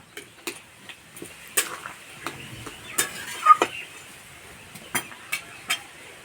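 Boiled potatoes are mashed in a pan, giving sparse, irregular taps and soft scraping knocks of a utensil against the pan, fairly quiet with short pauses between strokes.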